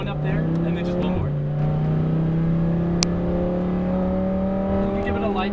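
Lamborghini Huracan Performante engine pulling hard on a race track, a steady rising drone with one brief gear-change dip near the start, loud and continuous from inside the cabin.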